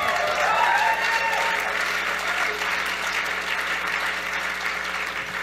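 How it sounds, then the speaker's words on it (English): Audience applause at a debate on proportional representation in Ottawa, a steady, full room of clapping sustained across the whole stretch, fairly loud with murmurs underneath. "You can applaud for this."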